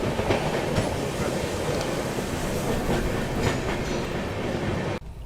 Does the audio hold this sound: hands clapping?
no